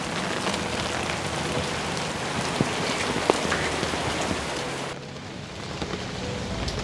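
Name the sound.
rain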